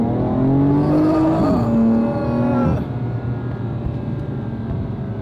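Car accelerating hard, a loud close engine note rising in pitch with a gear change partway through, then settling into a lower steady drone.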